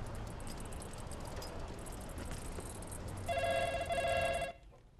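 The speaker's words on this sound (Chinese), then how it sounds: "接电话呀！" A telephone bell rings indoors in a home, a rapid metallic trill sounding continuously and growing louder and sharper for its final second before stopping abruptly, with no talk over it.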